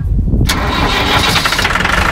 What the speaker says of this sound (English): We'll let the glow plugs run for a minute and fire it up.